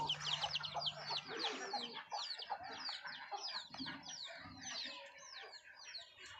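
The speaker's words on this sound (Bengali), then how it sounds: "বাকি সব এখানে আমাদের মুরগিগুলো, ওইদিকে আমাদের হাঁসগুলো আছে" Chickens on a small farm that also keeps ducks, a flock clucking and chattering with many overlapping short calls, faint and fairly distant, going on steadily throughout.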